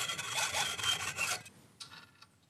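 A handsaw cuts a wooden stud down below the surface, its rasping strokes close, steady and loud for about a second and a half before fading to a couple of faint scrapes.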